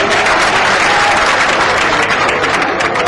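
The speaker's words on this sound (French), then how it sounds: "il s'agit de M. Babou Traoré, que je vous demande d'applaudir encore" An audience at an anniversary tribute ceremony in Mali applauds steadily and loudly for the full three seconds, a dense wash of clapping with no voice over it.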